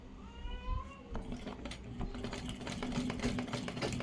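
A sewing machine stitches piping fabric onto a garment sleeve, its steady mechanical whir running continuously at close range with a faint hum throughout.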